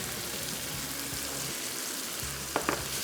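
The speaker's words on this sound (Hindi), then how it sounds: "और अब इसकी हम करेंगे थोड़ी सी भुनाई इसी में ही।" Chili and masala mixture frying in a pan for a chili salan, giving a steady close sizzle throughout with a few brief sharp stirring clicks near the end.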